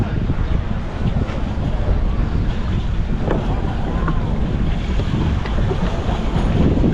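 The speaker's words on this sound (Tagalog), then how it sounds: "So yan po guys ang dagat." Sea waves wash steadily alongside constant wind buffeting the microphone, recorded from a pedal boat on the water off Es Canar beach in Ibiza in summer, with no clear voices standing out.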